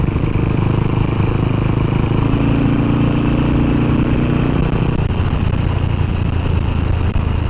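Velocette Venom motorcycle engine pulling steadily while riding out of Aldridge toward Shenstone on country lanes, a continuous loud drone with a firm low throb and a slight change in tone around the fifth second.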